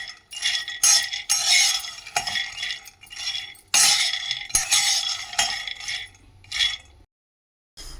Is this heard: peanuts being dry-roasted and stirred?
yes